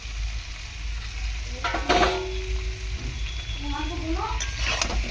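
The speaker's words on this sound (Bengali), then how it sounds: "এখন আমি দিয়ে দেবো এই যে পটল আর আলু, ভেজে রাখা পটল আর আলুটা" Pre-fried pointed gourd and potato pieces go into a pan of sautéed shrimp, setting off a loud, close sizzle that swells briefly and then crackles on steadily while a person talks over it.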